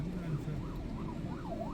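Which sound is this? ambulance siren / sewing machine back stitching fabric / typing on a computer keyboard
ambulance siren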